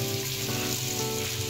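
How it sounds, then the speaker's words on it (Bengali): Onions and ground spice paste frying in a pan for Bengali pulao, giving a steady close sizzle with faint stirring scrapes throughout, no voices. "একটু নাড়াচাড়া করে"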